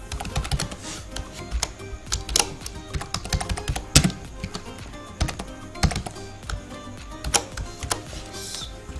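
Typing on a computer keyboard while writing a basic Python program, close and irregular key clicks with occasional louder taps, no voices.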